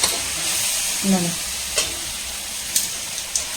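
Maggi noodles stirred and fried in a pan over a low flame, a steady close sizzle with a few scraping stirs and clinks, no talk during it.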